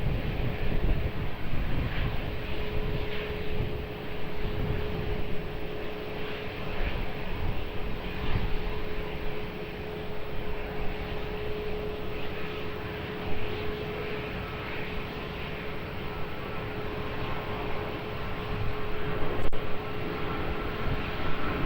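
At Lisbon Airport, a jet on runway 20 roars through its takeoff in a steady, broad engine rumble with a sustained hum, heard from a distance without speech.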